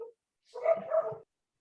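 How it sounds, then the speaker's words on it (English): Dogs at home bark in a short burst of two or three quick, close barks lasting under a second, following a brief quiet pause, with no talking over them. "I have dogs barking"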